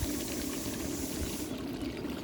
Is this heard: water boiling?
yes